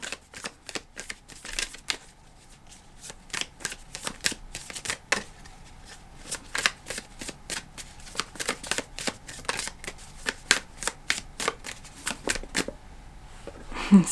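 Tarot cards shuffled by hand close up, a rapid run of crisp riffling and slapping card sounds in quick irregular bursts that continue throughout.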